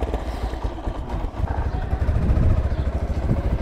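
A motorbike engine rumbles and revs on a dirt track in Pokhara, a low throbbing growl that swells louder in the second half, heard close by.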